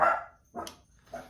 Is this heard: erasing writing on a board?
no